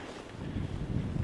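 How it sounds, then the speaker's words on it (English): Strong wind buffeting the microphone on a riverbank while pike fishing, a steady low rumbling roar that swells slightly, with no other sounds. "this wind is, if anything, is getting worse"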